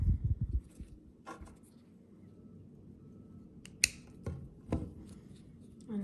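Scissors snip through crochet yarn a few times, with short sharp clicks near the start, middle and end against a quiet room background.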